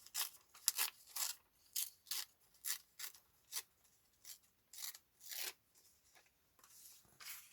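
Fragile old paper is handled and cut, producing a series of soft rhythmic crisp snips and rustles, quiet and close, with no voices.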